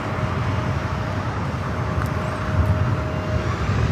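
Delta Boeing 757-300 jet airliner at LAX, a steady, loud, broadband jet roar that holds evenly throughout with a thin sustained tone over it and no talk.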